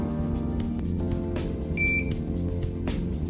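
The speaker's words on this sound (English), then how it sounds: "once the recorder initialises, you'll hear the beep" Brief electronic beep from a CCTV recorder as it initialises, a single clear tone near the middle, heard over a low background hum.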